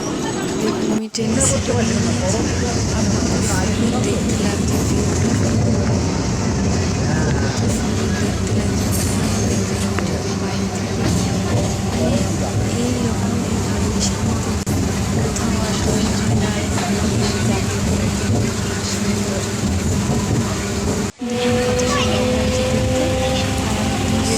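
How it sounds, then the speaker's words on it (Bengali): A train arrives at a busy station, rumbling steadily, its low mechanical roar continuous with crowd chatter and voices mixed in throughout. "ট্রেন চলে এসেছে"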